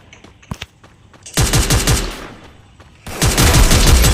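G36 rifle fire in the mobile game Free Fire MAX: a few quick isolated shots, then two loud rapid automatic bursts, close and dominant, with no speech.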